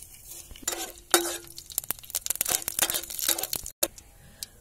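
Cumin and mustard seeds splutter in hot oil while upma is being made. Close, crackling pops and sharp spits come in irregular bursts, mixed with light clinks of a metal pan and spoon, and no one speaks.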